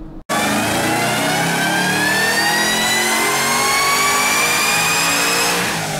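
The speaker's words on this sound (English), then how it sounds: "Next up is the Sloppy Mechanics G35, but when it had the LSA blower on it." A supercharged LSA-engined Nissan G35 on a dyno, running on 71% ethanol: one long, loud, close rev climbing steadily in pitch from a sharp start, with no talk over it.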